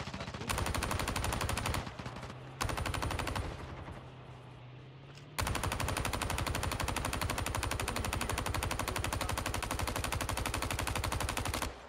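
Continuous rapid automatic gunfire in the mobile shooter COD Mobile battle royale, loud sustained bursts broken by a short pause and a quieter stretch before firing resumes steadily to the end.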